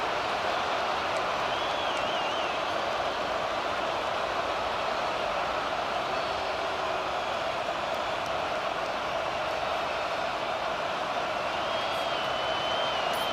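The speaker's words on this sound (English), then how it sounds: "Listen to this crowd just shaking the girders of this place, trying to help their defense" A college football video game stadium crowd roaring steadily, a dense, unbroken wash of noise that holds at constant loudness throughout without pauses.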